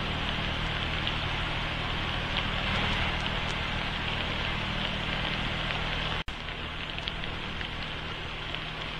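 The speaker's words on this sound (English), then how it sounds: "It is raining" Steady rain falls outdoors as a dense, even hiss with no talking, broken only by a single sharp click about two-thirds of the way through.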